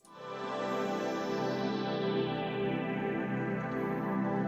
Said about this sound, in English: I first kind of played with this synth sound,